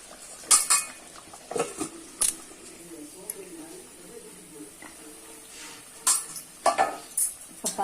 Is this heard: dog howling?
no